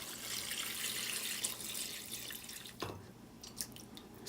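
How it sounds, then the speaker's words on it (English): Home canned beef broth pours from a jar into a pot of Italian sausage and lentil stew, a steady soft liquid splash and trickle throughout, ending in a few separate drips. "Now for some of my home canned beef broth."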